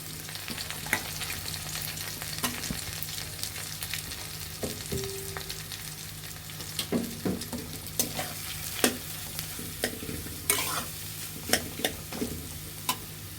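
Potatoes tossed into a pan for brinjal chop, frying with a constant low sizzle while a utensil clicks and scrapes in irregular stirring strokes, growing busier toward the end.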